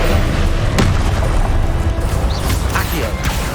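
A Confringo spell explosion in the video game Hogwarts Legacy: a sudden booming blast with a rumbling crash, set against dense game sound and effects.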